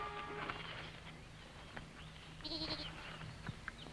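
A goat bleats a few times, thin and fairly faint, against a soft outdoor background with light clattering and hoof-like taps.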